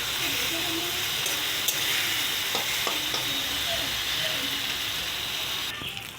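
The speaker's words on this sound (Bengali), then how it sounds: "মশলাটা দিয়ে দিলাম, একটু নাড়াচাড়া করবো। তেলে রান্না করছি" Spices sizzle loudly in hot oil in a home kitchen as they are stirred, a steady frying hiss with occasional scraping clicks of the spoon against the pan, continuous for several seconds.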